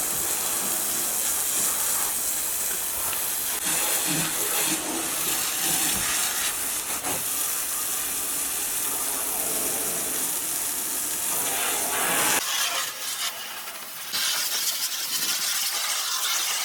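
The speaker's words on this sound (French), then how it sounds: "je vais retirer tout le surplus avec mon jet d'eau à grande eau" A water jet blasts at full flow to rinse paint-stripping gel off a surface, a loud continuous hiss and spray that shifts in tone as the stream moves, with a brief break near the end.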